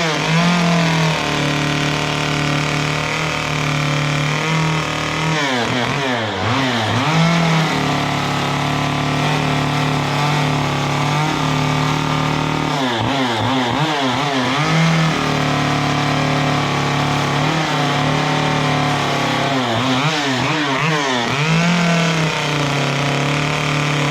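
Chainsaw cutting and carving a simple wooden feather, the engine holding a loud steady drone with three rising-and-falling rev surges as the bar bites into the wood, no talking.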